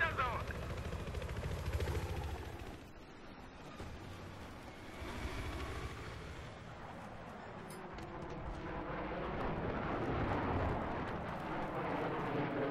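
A helicopter's rotor drones and thrums, rising and falling over a rumbling backdrop of explosions, while a person talks.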